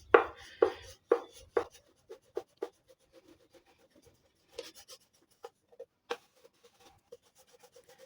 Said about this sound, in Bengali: দেখো আমি এইভাবে এগুলোকে বেলে নিচ্ছি, খুব মোটাও না খুব পাতলাও না